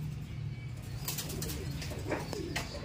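Racing pigeons coo softly nearby at a loft at evening feeding time, with faint fluttering and a low steady hum underneath.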